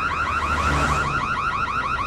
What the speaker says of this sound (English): Fucking burglar alarm!